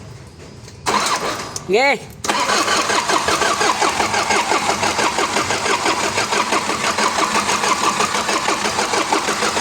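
A smoky, misfiring Isuzu 4HFI diesel engine cranks briefly, then catches and runs loud and close with a steady rhythmic throb. Someone speaks a short word just as it starts.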